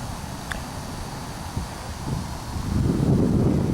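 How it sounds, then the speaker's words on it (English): A breeze off a lake in a garden makes a steady, soft low rush of wind across the microphone, with faint rustling, building a little louder toward the end. "We sit here pretty often and catch the breeze coming off the lake."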